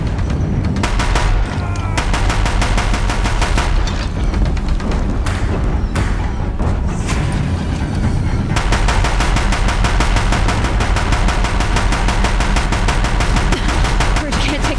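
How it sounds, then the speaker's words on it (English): Deathbringer machines in the video game Horizon Zero Dawn fire their guns in loud, rapid, sustained bursts, dense mechanical gunfire dominating throughout with heavy thuds and no pauses. "If the Deathbringers keep firing,"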